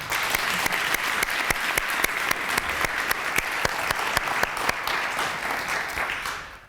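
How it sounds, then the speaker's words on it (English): Applause from a conference audience at a plenary panel discussion, dense and sustained for several seconds with sharp individual claps standing out, then tapering off at the end. "let's welcome them with a big applause for that"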